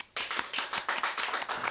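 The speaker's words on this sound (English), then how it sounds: "Thank you for the round of applause" A round of applause from a small group, rapid dense claps in a steady flurry, close and fairly loud without any voices over it.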